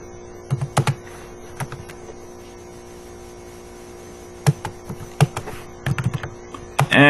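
Keys clatter on a computer keyboard as C++ code is typed, in short uneven bursts separated by pauses, close and clear over a steady low electrical hum.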